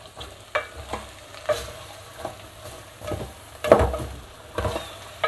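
Potatoes and eggs fried in oil in a pan, heard as a soft sizzle under repeated scraping stirs of a spoon that come in uneven bursts, close by, with no talking.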